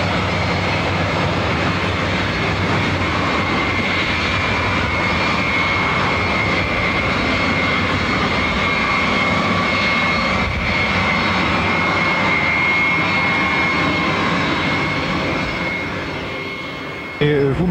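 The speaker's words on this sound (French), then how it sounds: "quand l'avion arrive" A jet airliner arriving in Mauritius, its engines roaring loud and steady with a persistent whine, filling the air continuously before easing slightly at the end.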